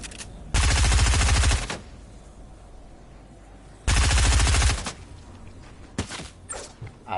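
Two loud bursts of rapid automatic gunfire from Fortnite, each about a second long and separated by a pause, followed by scattered softer shots and clatter.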